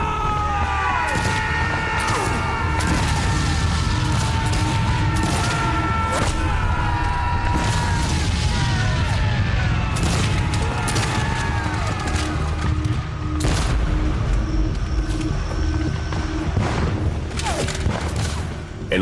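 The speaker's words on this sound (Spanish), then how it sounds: "En una cerca que usan para protegerse reciben más de 800 disparos de rifle." Rifle and musket fire in a US Civil War battle near Emmitsburg Road: dense, overlapping volleys of shots and booms, sustained throughout with sharp crackling bursts, loud and at a middle distance.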